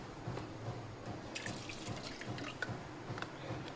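Soda poured into a glass at a lemon juice stall, a soft, quiet trickle and fizz of liquid with small splashy accents, with no talk over it.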